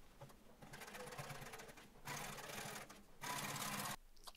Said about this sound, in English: Stitch the curved pocket seams.